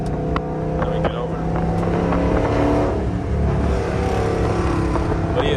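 A Dodge Charger R/T engine revving as it downshifts, heard from inside the car as a loud, continuous droning roar that swells and holds across the stretch.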